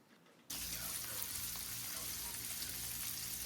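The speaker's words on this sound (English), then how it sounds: "Alright, we got these grilling now. The oil's going." Hot dogs frying in oil, a loud, steady crackling sizzle that starts abruptly and continues evenly, close up with no voices.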